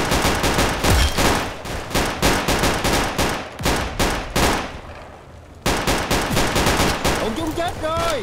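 An STG-44 rifle fires full-auto in a Roblox shooter game, with loud, rapid, evenly spaced bursts that pause briefly and then resume, heard up close.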